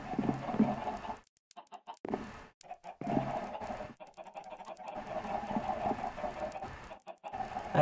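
Chickens cluck and squawk on a farm in a Minecraft-style video game, several birds calling in irregular bursts with short silent gaps between them, fairly loud and close.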